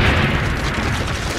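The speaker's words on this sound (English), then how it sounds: "the grenade detonates." A hand grenade detonating, heard as a loud, sustained, broad roar of blast noise that fills the whole moment without a break.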